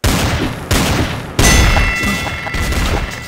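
Loud gunfire in three heavy booming bursts, each rolling off with a long echoing tail, close and without talk.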